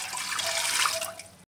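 Water poured steadily from a small pot into a pressure cooker holding mixed moong and toor dal in a home kitchen; a close, even splashing rush lasting about a second and a half, then stopping abruptly.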